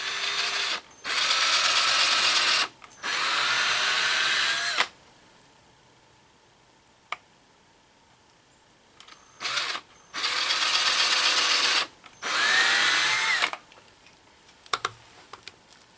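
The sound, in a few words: power drill pre-drilling holes in wood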